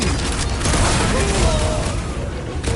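A loud explosion in the Guardians of the Galaxy video game, a dense rumbling blast that fills the short moment, with game sounds layered over it.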